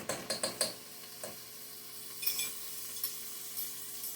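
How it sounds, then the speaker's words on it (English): Garlic cloves stirred into a minestrone soup pot, a few quick scraping and clinking strokes of a utensil at the start with a faint sizzle, followed by sparse softer stirs. "So I'm going to do a teaspoon of garlic cloves in there."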